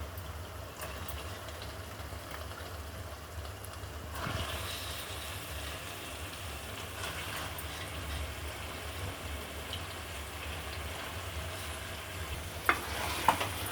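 Chicken pieces frying in a pan for a cashew chicken masala curry, a steady low sizzle running throughout with occasional stirring scrapes and a couple of sharp clinks near the end, no talking.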